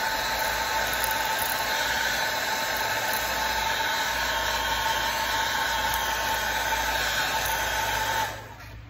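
A heat gun heat-sets paint on a bass lure, giving a steady, close, broadband blowing hiss with a low motor hum that runs unbroken for several seconds before shutting off.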